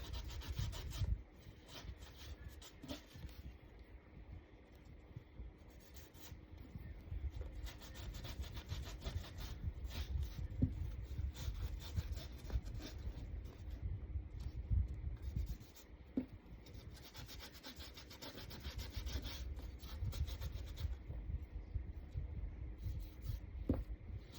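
A finger rubs finish off a wooden cardinal round craft kit, giving a steady, soft, close scratchy friction that continues without pause, with no talking.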